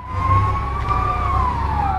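A fire engine's siren wails steadily and loud, sliding slowly in pitch as the truck arrives at a blaze that destroyed tents and killed workers in Esenyurt, Istanbul, with engine rumble beneath.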